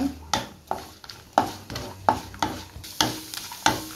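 Cashews, almonds and pistachios roast in ghee in a pan, with a spoon scraping and stirring in regular strokes, roughly one every half second, over a soft, close sizzle.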